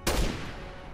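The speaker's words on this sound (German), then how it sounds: "Wieso schießen die?" A single loud gunshot blast from Resident Evil 6 hits at the start, then rings out in a long, decaying reverberant tail with no voices.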